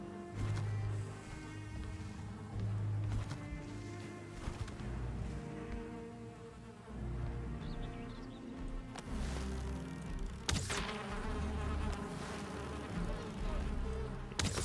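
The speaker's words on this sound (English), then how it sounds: "Some darn bees." Bees in the Valheim video game buzz steadily and close through most of the passage, layered over game music and effects with a few louder bursts, and no talk is heard.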